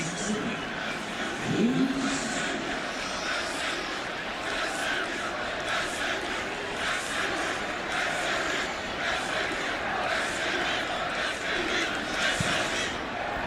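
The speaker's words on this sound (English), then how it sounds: "As the crowd is cheering on SMU once again into the end zone" A large football stadium crowd roars for an SMU touchdown in a Baylor vs. SMU college game, a broad, sustained wash of cheering under a commentator's voice.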